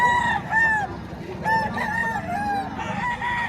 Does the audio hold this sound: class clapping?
no